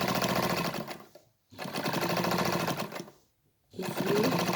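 A sewing machine stitches a seam in fabric with a steady, close, rapid mechanical whir, running in three bursts separated by brief stops.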